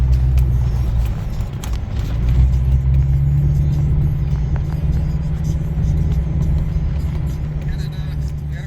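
Pulling into a sawmill, a vehicle gives off a loud, steady low engine rumble and road noise from inside the cab, with no clear voices over it.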